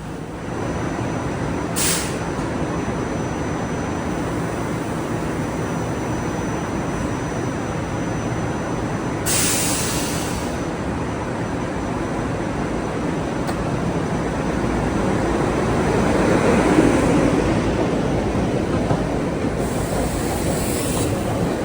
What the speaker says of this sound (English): There's a Chestnut Hill East train with the Reading Heritage car on it.